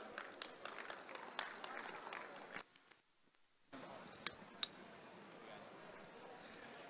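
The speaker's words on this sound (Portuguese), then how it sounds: "Uma salva de palmas, por favor." A conference audience applauds to welcome an AWS speaker at a blockchain security talk. The clapping is faint and distant, stops briefly, then resumes with a couple of sharper claps.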